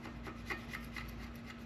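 Silicone gasket material being scraped off a truck rear differential housing, a soft rasping rub repeated in a steady back-and-forth rhythm, quiet and close against a low steady hum.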